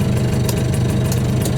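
The engine of a PEEL micro car idles close by, a steady, loud buzzing drone with a slight rapid pulse and no talk over it.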